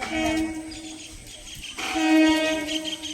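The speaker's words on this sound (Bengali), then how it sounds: "এদিকে আসছে ট্রেন এবার ট্রেনে করে" A train arriving at a station, its horn sounding in two long, loud tonal blasts separated by a brief gap, over rumbling rail noise.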